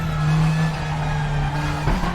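A DTM-style race car in the RaceRoom racing game drones at a steady engine pitch through chicanes, then briefly shifts tone near the end, loud and close with no speech.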